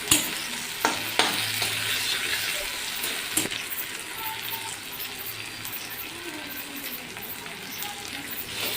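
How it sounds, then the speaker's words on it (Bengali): Onion and tomato frying in hot oil with green chillies for a spicy tangra fish curry, giving a steady, close crackling sizzle that runs throughout, with a few sharper clinks of stirring near the start. "পেঁয়াজ টমেটো ভাজা হচ্ছে"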